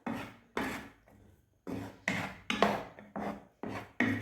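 A spoon stirs peanuts in a pan as a caramel coating forms, making a series of dry, scraping rasps in an uneven rhythm of about nine close, distinct strokes with short pauses between them.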